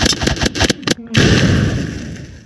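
A bomb explodes in the archery combat video game Ragdoll Archers, a loud booming burst that follows a run of sharp popping hits and trails off into a long rumbling decay.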